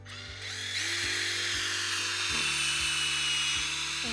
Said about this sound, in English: We take our drill.